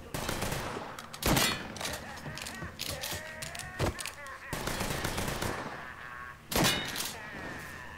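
Gunfire from the video game Mafia 3: several loud, sharp shots and short bursts ring out at uneven intervals over a background of game ambience.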